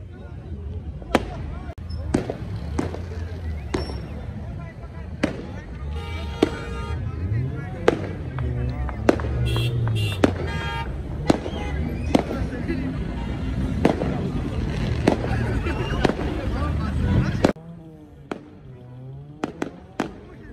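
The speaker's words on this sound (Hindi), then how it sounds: "फायर वर्क जो थे मना थे इस्लामाबाद में तो बहुत कम हो गए फायर वर्क" New Year fireworks over Islamabad pop and bang at irregular intervals against a rumbling, crackling backdrop, with distant voices murmuring throughout before the explosions thin out near the end.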